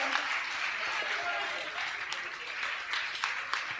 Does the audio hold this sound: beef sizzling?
no